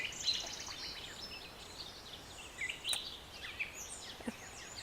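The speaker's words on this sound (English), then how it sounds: "can you guys just listen to the birds?" Birds sing at dawn around a potager garden: several faint chirps and high whistled calls scattered over soft outdoor background noise, at a distance and fairly quiet.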